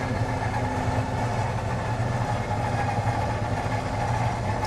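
An electric bunk lift in a 2021 Coachmen Encore 355OSF RV lowers with a steady, droning motor hum that stays even and continuous the whole time, close and fairly loud, with no talking.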